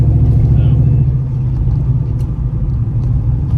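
A new-generation Ford Mustang with a T56 manual transmission drives along, its engine giving a loud, steady low rumble heard close up from inside the car, with slight rises and dips in intensity.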